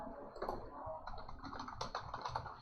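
Soft, quick typing on a computer keyboard: a run of light, close key clicks in an uneven rhythm over about three seconds.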